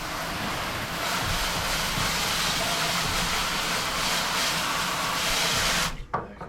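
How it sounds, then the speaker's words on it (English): A garden hose sprays water through a pool filter, a loud, steady close rush of water that stops abruptly near the end. "now we got the hose. We can just rinse it right out the bottom"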